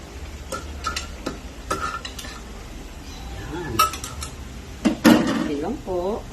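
A metal lid clanks onto a pot of pinakbet vegetables on the stove, with scattered clinks of cookware and a louder scrape and clatter near the end, heard close up without talk.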